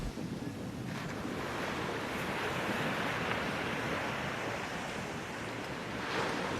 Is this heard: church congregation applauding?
no